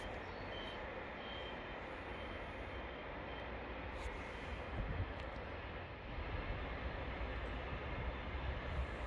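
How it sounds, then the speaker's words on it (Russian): A train passes near apartments in Prague with a steady, soft rushing hiss, a broad smooth rumble swelling slightly midway, with no rhythmic clatter of wheels. "Кстати, вот поезд едет, смотрите."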